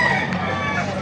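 Chickens cluck and crow close by in a busy, noisy poultry market in Baliuag, Bulacan, with a rooster's call rising over the clutter.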